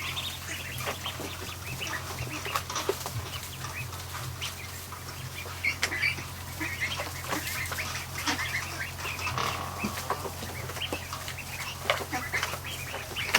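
Newly hatched Muscovy ducklings in a kiddie pool peep continuously in a busy, overlapping chorus of short high chirps, close by over a low steady hum.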